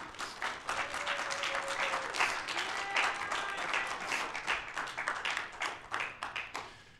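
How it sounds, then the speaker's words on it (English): At Pinball Expo 2023, an audience applauds a group of presenters with vigorous close clapping and a few faint whoops, the claps growing sparser and more distinct as the applause winds down. "I want you to really give a hand of applause for these guys"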